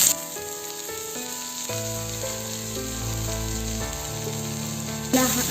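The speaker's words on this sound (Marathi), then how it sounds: "तेलामध्ये कांदा हा छान भाजून घ्यायचा आहे" Onion roasts in hot oil for Maharashtrian misal, giving a continuous close sizzle over a steady bed of background music.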